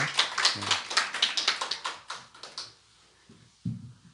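Church congregation clapping to welcome newcomers at a Korean worship service: a quick run of sharp, rhythmic, close claps that thins out and fades, with a brief thump near the end.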